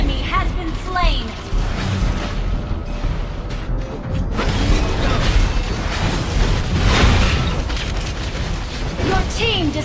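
Turret destruction in Mobile Legends, a busy MOBA match: a loud rumbling burst of explosive effects with clattering skill sounds, under continual voices and game announcements.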